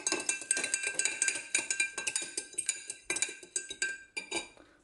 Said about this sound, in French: on mélange bien son œuf.